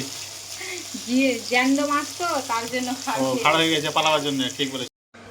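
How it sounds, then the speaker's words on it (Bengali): A steady sizzling hiss of fish frying in hot oil runs throughout, with a person talking over it before a brief cut to silence near the end. "এই দেখো মাছ ভাজা আমার কমপ্লিট হয়ে গেছে"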